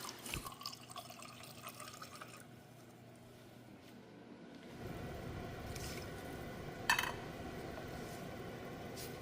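Water pours steadily into a container, a soft continuous splashing that grows fuller partway through, with a brief clink near the end.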